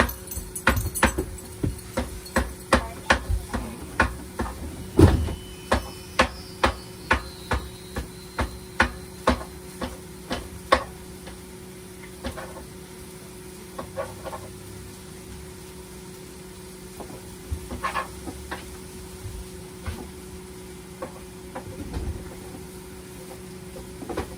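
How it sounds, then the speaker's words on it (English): Sausage in a pan in a small RV kitchen is broken up with a utensil, giving repeated sharp scraping clacks in an irregular rhythm over a low steady hum, loud at first then sparser. "I'm gonna break up the sausage."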